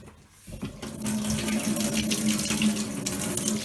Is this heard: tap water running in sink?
yes